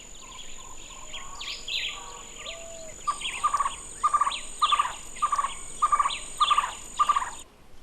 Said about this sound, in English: these birds changed into uniquely Cuban creatures, like the national bird, the Cuban trogon.